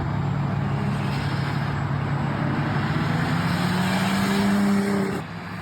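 Turbocharged BMW car exhaust, a steady droning engine note with a tone that slowly rises, then drops off at the end, heard close with a constant road-like rush.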